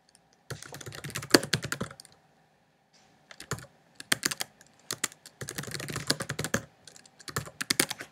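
Typing a password on a computer keyboard: quick close clusters of key clicks in several bursts separated by short pauses, with no talk.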